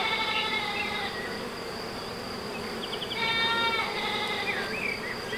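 A steady drone comes from bees in an open hive box, with higher whining tones from individual bees flying near; no one speaks.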